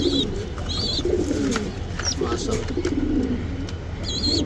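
Silver, aluminium and other fancy pigeons coo softly in a loft in low, rolling bursts, with a steady hum of background noise and a few high chirps.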